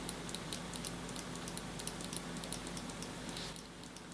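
Cherry DW 9000 Slim wireless mouse buttons clicked in a quick, steady series of light, crisp ticks over a faint background hum, with no talking.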